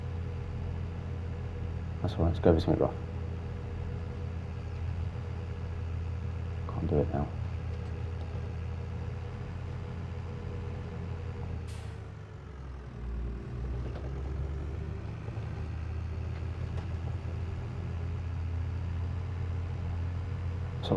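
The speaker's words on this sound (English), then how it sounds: "just listen to the sounds on the tractor." Tractor engine in Farming Simulator 22 drones steadily with a low, continuous rumble throughout, with brief clunks and knocks, as someone talks over it.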